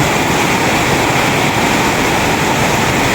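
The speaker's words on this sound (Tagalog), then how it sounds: "Malakas po ang ulan dito po sa amin" A dense, steady roar of heavy rain, loud and continuous with no pauses and no voices.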